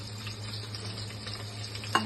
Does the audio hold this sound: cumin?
yes